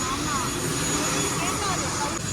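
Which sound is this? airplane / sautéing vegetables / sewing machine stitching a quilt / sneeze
airplane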